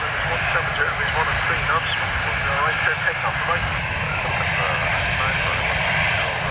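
Aircraft engine noise at Dublin Airport on a wet, windy day with runway 10 right departures, a steady rumbling roar under close, ongoing talk.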